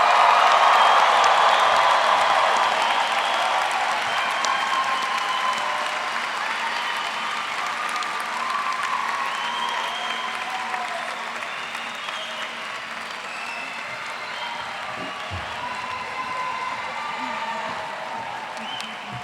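A large audience applauds a graduating medical class at a white coat ceremony, sustained clapping that starts loud and slowly fades over nearly twenty seconds.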